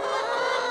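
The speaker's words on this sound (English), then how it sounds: "Come on, chickens." A brief, close burst of farmyard chickens clucking together while pecking at boots, busy and continuous for under a second.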